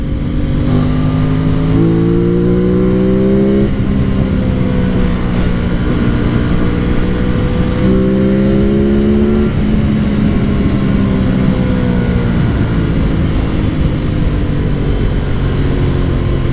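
An Aprilia RS 660 sport motorcycle rides on an evening road in cold air, its engine droning loudly and continuously with rising and falling pitch as it moves through the gears, heavy wind rush throughout and no voices.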